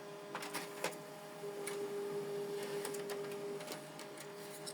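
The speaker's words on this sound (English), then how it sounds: "The document is printing." An HP LaserJet M140WE laser printer prints a document at close range, giving a sustained motor whine broken by clicks and ticking mechanical knocks, quiet overall.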